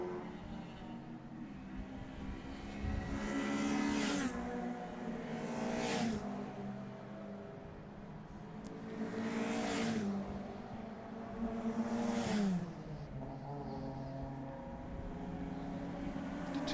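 Several Salika race cars roar around a circuit in a club race, engines rising and falling as they pass close by in repeated loud sweeps, with continuous engine noise between passes.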